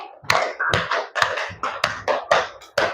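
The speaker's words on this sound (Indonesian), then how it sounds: "Tepuk 3 2 kali" A group in a classroom coaching session claps in unison in a rhythmic pattern of three claps done twice, each clap a crisp, close burst with short pauses marking the sets.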